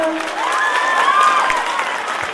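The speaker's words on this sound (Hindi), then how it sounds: "इसी बात पे थोड़ा ताली बजा दो" A crowd at a school annual function claps steadily in continuous, fairly loud applause, with a few whistle-like tones rising over the clapping.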